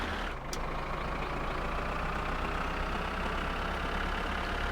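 Tractor engine idling in the My Summer Car video game, a steady low diesel rumble that holds evenly throughout, loud and alone, with a brief hiss near the start.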